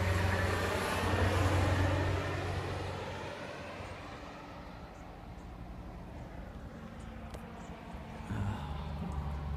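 A high airplane circles low over a wildfire evacuation area, its faint, steady engine drone swelling and fading across several seconds at a distance.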